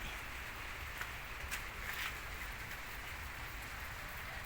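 Steady rain pours down outdoors near a wood-charring kiln, a dense continuous hiss with scattered droplet taps and no voices.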